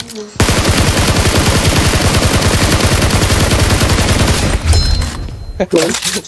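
Loud, rapid automatic gunfire in a video game, a dense unbroken burst lasting several seconds, followed by a couple of short closing volleys.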